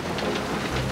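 Heavy rain pelting down at an outdoor excavation site: a dense, steady hiss of rain lasting the full second, loud and close.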